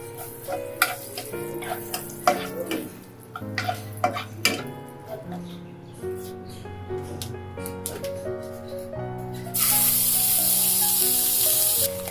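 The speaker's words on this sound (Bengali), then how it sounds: "এরপর ওই তেলে সামান্য বাটার দিয়ে তাতে ফোড়ন হিসেবে দিয়ে দিলাম ছোট্ট দু টুকরো দারচিনি একটা এলাচ একটা লবঙ্গ একটা তেজপাতা ও অল্প পরিমাণে আস্ত জিরে" Whole cinnamon, cardamom, clove, bay leaf and cumin temper in hot oil with butter. Scattered ticking crackles give way to a sudden loud, steady frying sizzle near the end, with no talk.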